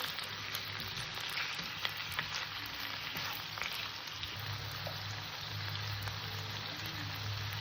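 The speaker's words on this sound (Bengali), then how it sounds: "আমি যে মাংসটা কষবো এখন তাতেও গ্যাস ছোটো করে দিয়েই কষবো" Chicken pieces for chicken pulao frying slowly in a pan over low heat, giving a steady, even sizzle with soft crackles and occasional pops, close and continuous with no talking.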